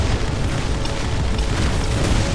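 An aircraft explodes and goes down in the strategy game Dawn of War, a loud, continuous boom with rumbling low end that fills the whole moment without a break.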